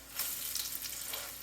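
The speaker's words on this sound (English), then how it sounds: "Okay, these are sizzling away." Latkes fry in hot oil for Hanukkah, a steady close crackling sizzle with small bursts of spitting and popping throughout.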